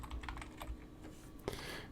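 Steady typing on a computer keyboard while setting up a new Pro Tools LE session, a run of light, close key clicks with one sharper tap near the end and no talking.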